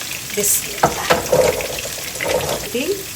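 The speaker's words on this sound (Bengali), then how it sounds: "আলুটা এদিকে ভাজা হতে থাক" Potatoes fry in a home kitchen pan with a soft, steady sizzle, broken by a few light scraping and stirring clatters at close range.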